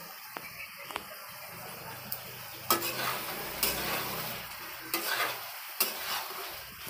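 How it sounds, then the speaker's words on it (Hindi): Jackfruit curry is stir-fried in a pan over medium-low heat, with a soft, steady sizzle and intermittent scraping and tapping of a spoon against the pan, fairly quiet and close, with no talking. "इसको भून रहे हैं।"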